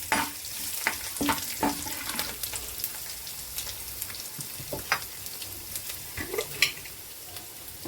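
Tempering for an ulava charu chicken biryani, with mustard seeds, dried red chillies and curry leaves sizzling in hot oil. A crackling fry is broken by repeated scraping stir strokes and sharp pops, close by with no talking.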